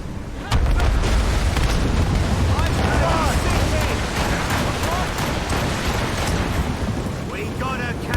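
Ship cannons fire during a naval battle in Assassin's Creed Rogue, heavy booms and sharp cracks over dense rumbling battle noise, while voices shout throughout.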